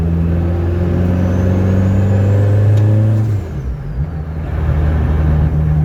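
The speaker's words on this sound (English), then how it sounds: "Turbo noises." A loud engine of a turbocharged Citroen Saxo VTS with over 330 bhp drones steadily, then a rising turbo whistle and a sharp hiss as the throttle lifts, with the motor rumbling on afterward.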